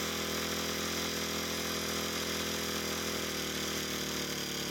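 A brush cutter's small two-stroke engine runs steadily at a constant buzzing pitch, loud and close, with no pauses or voices.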